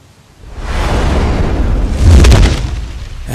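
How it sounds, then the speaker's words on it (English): A fire-blast effect swells into a loud, sustained roaring whoosh of flames that builds, holds for a few seconds and then cuts off abruptly, with no voice over it. "Now, try to shoot your flames out."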